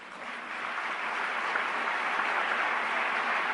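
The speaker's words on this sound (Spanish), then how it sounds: "eso se merece un gran aplauso" Audience applause at an international conference, a steady wash of clapping from many hands that builds quickly and holds evenly throughout, with no voices over it.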